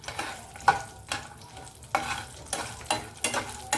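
Sun-dried vadiyalu fritters crackle in hot oil while a spoon scrapes and stirs the pan in regular strokes about every half second, close and distinct over a low sizzle, no voices.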